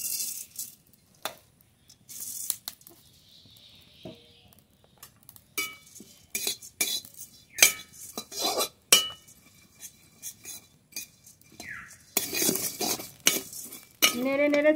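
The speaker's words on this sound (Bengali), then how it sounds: "এবার কড়াইতে অল্প অল্প দিয়ে খুব ভালো করে ভেজে নেব।" Metal spatula scrapes and clinks against a wok as flattened rice (chira) is stirred and fried, giving irregular bursts of scraping and tapping with short pauses between strokes.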